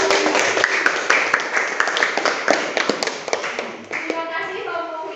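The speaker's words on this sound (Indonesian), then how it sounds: "Tepuk tangan untuk" A classroom claps for a student group, a burst of many hands patting quickly and unevenly, with children's voices mixed in.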